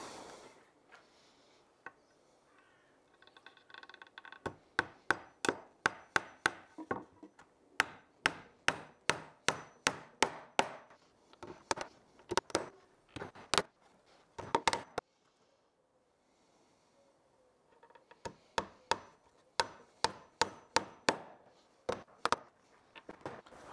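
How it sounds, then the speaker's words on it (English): Hammer driving thin wire nails through a wooden beehive super side panel into battens, sharp close taps in quick rhythmic bursts separated by short pauses and quieter handling sounds. "we're going to nail the thinner wire nails through from the inside into the side panel and securely fixing it to the battens"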